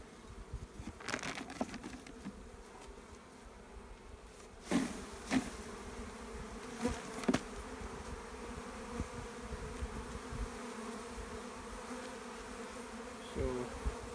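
Steady droning buzz of many honeybees swarming close by during a spring hive inspection, with a few louder clicks and knocks from handling equipment.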